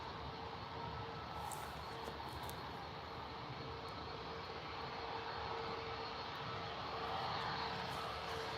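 Ryanair airliner departing Manchester Airport, heard from the visitor park as a continuous distant engine roar with a faint steady tone, holding at low level throughout with no talking.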